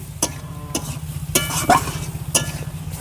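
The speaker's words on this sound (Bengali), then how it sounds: "মশলার সঙ্গে ভালো করে আলু আর বাঁধাকপিটা কষিয়ে নিয়েছি" Potatoes and cabbage stirred with spices in a pan, a spatula scraping and knocking a few times over a low steady hum, close and fairly loud.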